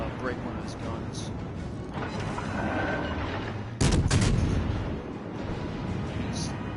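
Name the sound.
battleship firing HE shells, World of Warships Legends video game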